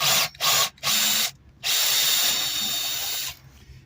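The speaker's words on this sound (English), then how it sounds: "I'm going to start drilling" A power drill boring through metal runs in three short bursts, then one long sustained whine, loud and close, with no talking.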